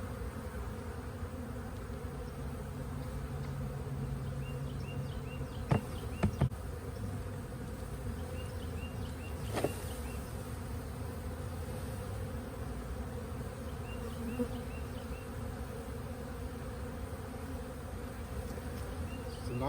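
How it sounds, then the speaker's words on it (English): Honeybee swarm behind a library hums in a continuous, even buzz throughout, with a few faint knocks and handling sounds scattered across it. "It's a nice swarm though, a lot of bees."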